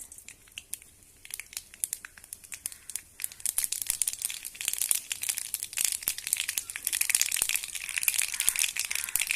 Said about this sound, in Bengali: সর্ষেগুলো ভালো করে ফুটে গেছে